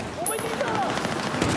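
Rapid automatic gunfire rattles in a Battlefield 4 match on the Flood Zone map, dense bursts layered over game noise, with a player's voice talking over the shooting.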